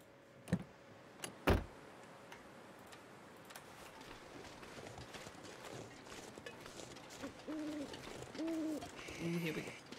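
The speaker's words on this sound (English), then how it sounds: "Do I hear a bird?" A bird calls in a snowy survival setting in The Long Dark, a few soft hooting notes repeating toward the end, faint over quiet ambience after a couple of sharp knocks.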